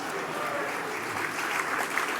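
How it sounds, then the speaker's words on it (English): An audience breaks into a short burst of applause at a kea-related acceptance speech, a dense even patter of clapping throughout. "I suppose that's worthy of a round of applause."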